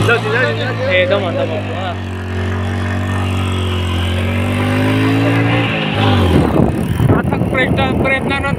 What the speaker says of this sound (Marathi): आता प्रयत्नानंतर आमची गाडी चालू झालेली आहे